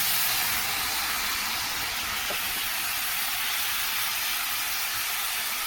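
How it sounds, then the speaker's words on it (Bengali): Okra frying in a hot pan gives a loud, continuous hiss and sizzle, steady and close from start to finish with no pauses or voices. "এই যে আবার ঢেঁড়সটি ভাজুন"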